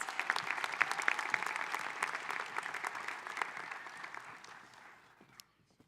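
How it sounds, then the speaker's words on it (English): Applause from the audience at a high school graduation ceremony for a young women's leadership academy, brisk clapping that stays steady, then thins and fades to silence near the end. "Another big round of applause for our Transformer Award recipients"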